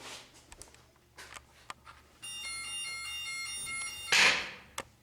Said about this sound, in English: What's that? That's the alarm.